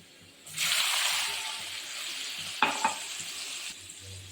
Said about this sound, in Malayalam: അപ്പോൾ നമ്മുടെ എല്ലാം വഴന്ന് വന്നിട്ടുണ്ട് അപ്പോൾ അതിലേക്ക് നമുക്ക് വെള്ളം ഒഴിച്ചു കൊടുക്കാവേ